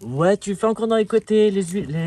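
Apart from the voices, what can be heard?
None of the usual background noises is heard.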